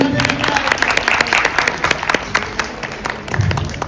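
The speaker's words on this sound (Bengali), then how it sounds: "স্যারের জন্য সবাই একটা হাততালি দিবেন।" An audience claps for a guest at a grooming-day event in a Kharagpur hotel resort, producing dense, continuous applause with sharp individual claps throughout and some voices mixed in.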